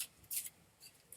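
Cards are shuffled for a tarot-style reading, giving soft, quick riffling and brushing bursts in a few separate strokes, close and faint, with no talking.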